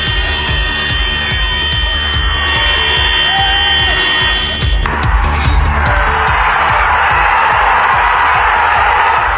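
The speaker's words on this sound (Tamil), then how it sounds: "விமான நிலையத்தை விட்டு வெளியே வந்த விஜயின் வாகனத்தை சூழ்ந்து கொண்டு ரசிகர்கள் ஆரவாரம் செய்தனர்" Fans cheer and roar around Vijay's vehicle at Madurai airport, a dense, loud crowd din with a buzzing, alarm-like tone running steadily underneath throughout.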